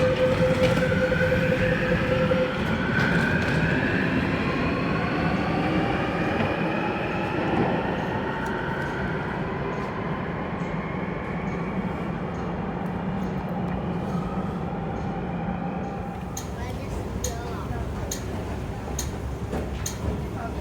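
An MTR metro train runs at the Lei Tung Station platform, a steady loud rumble with sliding pitch as it moves, ending with a series of short rhythmic clicks.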